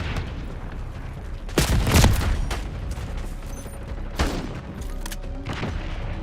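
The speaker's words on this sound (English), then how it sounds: "Impact grenade armed." An impact grenade explodes amid gunfire in the video game Black Ops 6, with a couple of loud blasts and rattling bursts over a constant noisy battle background.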